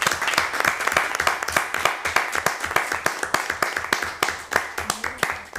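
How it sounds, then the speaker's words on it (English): Audience members at a music seminar clap for the panel, a moderate crowd of hands with individual claps clearly distinct in a brisk, uneven rhythm. "A big round of applause."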